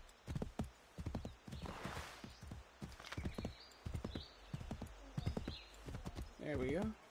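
Rhythmic hoofbeats of a horse in Assassin's Creed III clip-clop steadily under a talking voice, with a short horse whinny near the end.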